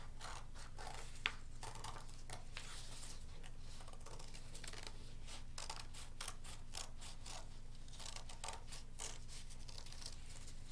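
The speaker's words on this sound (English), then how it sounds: "get our scissors in there. And we'll cut out our butterfly." Scissors cutting out a paper butterfly, a run of quick snipping and rustling paper strokes in irregular bursts over a faint steady hum, fairly close and quiet, with no talk.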